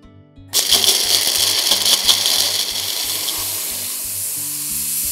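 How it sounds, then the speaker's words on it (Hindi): An electric mixer grinder whirs loudly as it grinds black pepper and red chilli into a masala paste, a harsh buzzing roar that starts abruptly and holds steady over a faint low rhythmic thumping. "ये डालने के बाद में इसको पीस"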